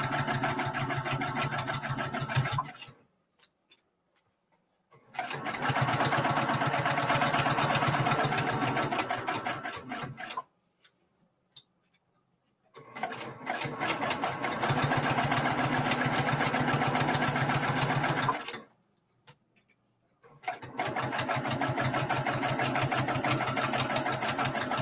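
A sewing machine runs in three long bursts of rapid stitching while backstitching a quilt seam on a quarter-inch line, its fast mechanical whir loud and close, separated by short pauses of near silence.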